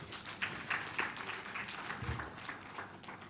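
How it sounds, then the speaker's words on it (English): An audience at an event applauds for a speaker with soft, fairly distant clapping, light individual claps showing through a quiet, even patter. "Please, can we together give her another applause?"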